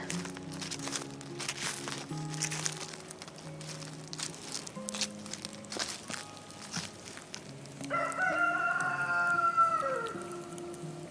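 Near the end a rooster crows once, clear over faint rustling and footsteps, with scattered clucking and a low hum earlier.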